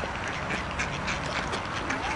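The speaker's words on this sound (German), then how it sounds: "Die eine Ente hat die andere gerade gehackt." A group of ducks being fed quack continuously at close range, with overlapping busy calls over a noisy outdoor background and people talking nearby.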